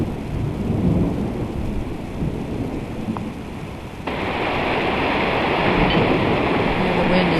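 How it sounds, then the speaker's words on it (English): Thunderstorm with heavy rain and a steady broadband roar of downpour that swells louder partway through, carrying a low rumble of thunder beneath it, close and continuous with no talking. "Still some good lightning and some pretty good thunder coming along with it."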